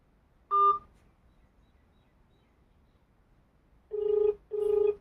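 A mobile phone ringback tone plays as an outgoing call connects: one short beep, a pause, then two longer tones close together, clear and alone.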